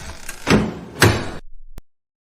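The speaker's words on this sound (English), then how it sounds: "Close the door." A door is pushed shut in a meeting room, a couple of close solid thuds with rustling and a faint sharp click, then silence.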